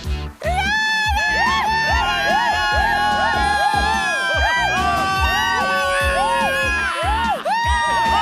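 Cartoon crowd cheering loudly and continuously with whoops and shouts, with bright music or melodic voices layered on top.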